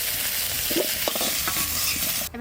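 Sundarban river tengra fish with salt and turmeric frying lightly in a pan, a steady close sizzle with a few spatula scrapes as it is turned.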